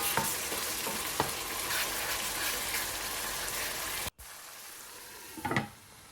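Chopped tomatoes fry and are stirred in a pan for a pumpkin curry, giving a dense steady sizzle. The sizzle cuts off abruptly, leaving quieter scraping and a brief clatter near the end.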